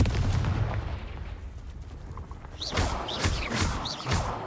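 Confringo, an explosive spell in Hogwarts Legacy, goes off as a cluster of sharp, crackling bursts with bright tonal flares, following a rumbling low start.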